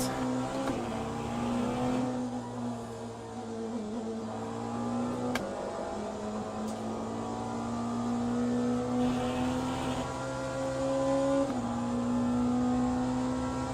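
Peugeot 9X8 race car in Le Mans Ultimate driving on a wet track, its engine droning steadily with a rising and falling tone through gear changes, loud and continuous for the whole stretch with no voices.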